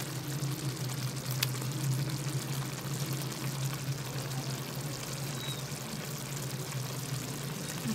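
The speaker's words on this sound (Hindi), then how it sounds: "अब इसके अंदर मक्खन डालेंगे और इसको भूनेंगे अच्छे से।" Chicken kadai fries in a pan with added butter, giving a steady, close, crackling sizzle with a faint low hum underneath and no talking.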